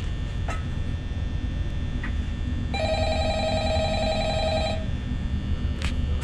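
An old-fashioned telephone rings in the Five Nights at Freddy's video game, one sustained electronic ring lasting about two seconds over a steady low hum, with faint clicks before and after.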